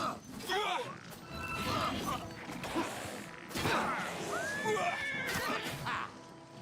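A horse in the video game Oblivion gives a couple of shrill whinnies amid clattering hooves and game effects, fairly quiet, with voices chatting over the play.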